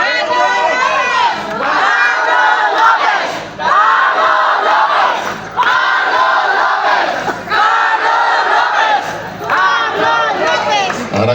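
A large crowd at a political rally for a congressman shouts and cheers in loud, repeated surges, each roar rising and then dropping back before the next.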